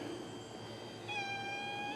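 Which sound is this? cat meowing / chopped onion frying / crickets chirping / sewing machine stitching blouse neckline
cat meowing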